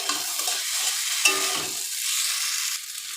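Fried rohu fish pieces are stirred in a hot pan with turmeric and spices, giving a steady sizzle broken by scraping stirs of the spatula.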